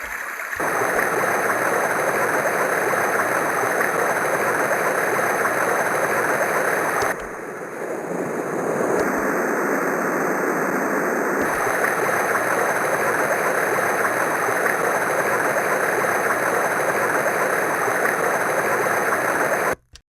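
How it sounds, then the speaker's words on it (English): Steady rushing water pours continuously like a waterfall, a dense broadband roar that dips briefly midway before resuming unchanged. "the next one is Waterfall."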